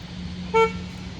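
A 2025 Kia Soul gives a single short horn chirp as it is unlocked with the key fob, bright and abrupt against a quiet outdoor background.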